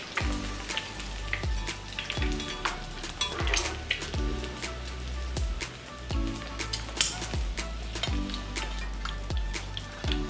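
An egg fries in hot oil, giving a loud, continuous sizzle packed with sharp crackles and pops throughout, with no one talking.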